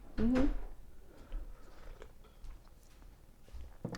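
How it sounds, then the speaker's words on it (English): A short, wet slurp from a cup up close, followed by quiet rustling and faint small handling noises in a hushed room. "excuse my slurping, I hate slurping noises, but I had to do it"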